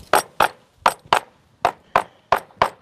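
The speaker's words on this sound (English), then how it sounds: "Okay, Harold, let's grab your hammer." A hammer strikes the wooden stretcher frame of a large canvas in quick pairs of sharp, close whacks, eight blows in all with short pauses between pairs.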